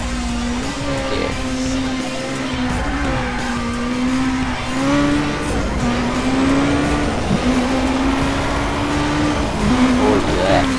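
Lotus Elise at full speed in Need For Speed Undercover: a loud, steady engine drone holding one high pitch with small wavers, a faint squeal of tyres now and then, sustained throughout.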